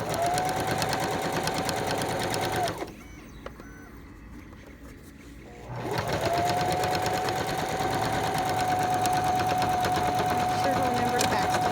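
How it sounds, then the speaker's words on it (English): Sewing machine stitching two fabric flaps together along a seam, a steady close whirring run that stops for a few seconds of near quiet and then starts up again, with a voice talking over it. "I'm going to sew them together"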